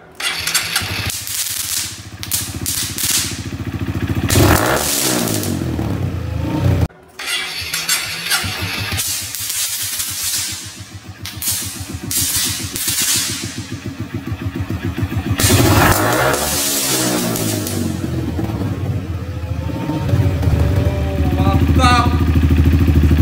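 A motorcycle engine starts and revs hard in bursts, its exhaust packed with firecrackers, with sharp cracking pops and a couple of brief pauses between loud roaring runs, and a voice speaking over it near the start.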